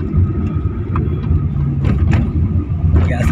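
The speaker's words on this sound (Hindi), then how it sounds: "गैस के टैंकर्स हैं" Gas tanker trucks pass on a mountain road between Batote and Patnitop, giving a steady, close engine and tire rumble with broadband road noise that holds for the whole stretch without a clear break.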